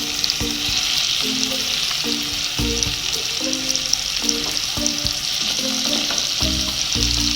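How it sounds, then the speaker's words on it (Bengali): Four chicken pieces fry in a little butter and oil over low to medium heat for tandoori chicken, with a steady loud sizzle and rhythmic scraping and stirring sounds throughout. "চারটে চিকেন পিস কিন্তু আমি দিয়ে দিয়েছি।"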